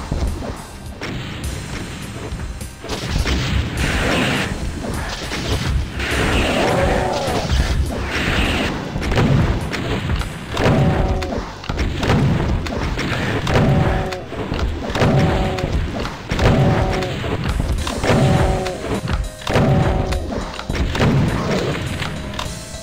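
Rocket explosions in Doom 2 boom again and again, heavy thuds and blasts in an irregular string of more than a dozen hits over steady game noise, loud and close.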